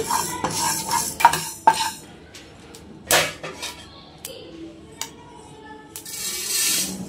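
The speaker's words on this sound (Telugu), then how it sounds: "ఇప్పుడు స్టవ్ పై ఒక పాన్ పెట్టుకొని అందులో 1 టీ స్పూన్ ఆవాలు 1/2 టీ స్పూన్ మెంతులు 1/2 టీ స్పూన్ జీలకర్ర వేసి దోరగా వేయించుకోవాలండి" Mustard, fenugreek and cumin seeds dry-roasting in a pan over a low flame: a spatula scrapes and clinks against the metal in irregular strokes, with a few sharper taps and a soft background rustle, and no voices.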